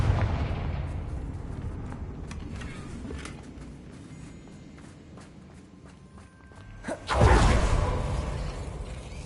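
A Confringo fire spell cast in Hogwarts Legacy, with a sudden loud whooshing burst near the end, preceded by footsteps and rumbling background game sounds.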